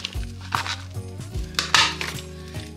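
Dishes and utensils clink and scrape while food topped with parmesan shavings is stirred in a dish, a series of close, irregular metallic knocks and clatters with no one speaking.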